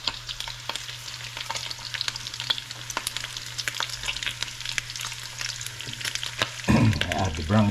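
Pork belly fries in a pot for Chinese-style braising, crackling and popping steadily up close as fat spatters, with a louder clattering stir near the end.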